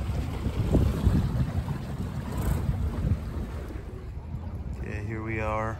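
A sailing yacht on the water waiting for the start of an upwind race back to Richmond, steady wind rush and water slosh against the hull throughout, close and fairly loud, with a brief whistling tone near the end.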